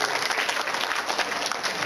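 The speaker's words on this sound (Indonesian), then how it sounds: "Tepuk tangan untuk Pak Ibrahim yang saya ikuti." A hall audience at a religious debate claps for Pak Ibrahim in a brief, even wash of applause at moderate volume.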